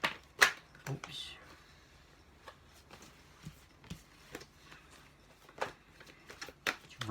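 Tarot cards are shuffled by hand in a quiet room, giving soft, irregular riffling bursts and taps spaced unevenly over several seconds.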